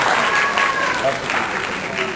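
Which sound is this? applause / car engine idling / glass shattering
applause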